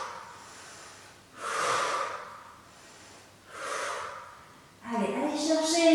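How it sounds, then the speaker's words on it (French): Rhythmic breathing during a beginner abdominal exercise: two long, strong exhalations separated by quieter inhalations, close and clear, followed by another breath with a voice starting over it. "On monte en soufflant, on inspire en descendant."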